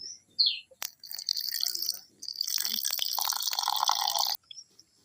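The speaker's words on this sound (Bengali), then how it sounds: "আমরা পরিমাণ মতন জল দিয়ে দেবো।" Water poured into a batter for pumpkin flower pakora, a close hissing trickle that splashes for a few seconds, with faint chirpy tones before it starts.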